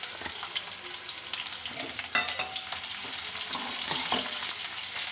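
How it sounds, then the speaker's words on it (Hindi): Onions go into a hot kadhai for poha and sizzle loudly and close, with the crackle building steadily as a spatula clatters and stirs at intervals. "सबसे पहले डाल देते हैं प्याज।"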